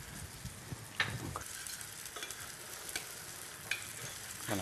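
Reduced cider with added cream and a knob of butter bubbling in a pan beside apple pieces, making a soft, continuous sizzle with occasional stirring clicks and pops.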